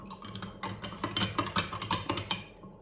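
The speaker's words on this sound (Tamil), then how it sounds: "ஒரு 1 மினிட்டுக்கு நீங்கள் கலக்கி விடுவோம்" A utensil stirs jelly in a pot to dissolve it for a cheesecake, giving a run of soft, irregular scraping and clinking strokes close by, with no talk.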